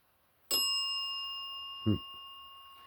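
A single bell strikes once with a bright, ringing tone that sustains and slowly decays, followed by a brief low thump, in a quiet room during a paranormal investigation.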